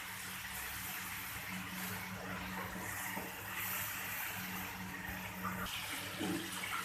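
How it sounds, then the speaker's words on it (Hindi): Water poured into a pan of cooking chickpea masala, a steady soft rushing flow heard close up and continuous throughout with a faint background hiss, no voices. "अब इसमें थोड़ा सा यही वाला पानी डालेंगे"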